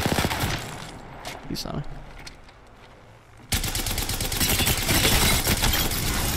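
Rapid video game gunfire erupts loudly from about three and a half seconds on, sustained bursts continuing to the end, while players talk over it during a quieter opening stretch.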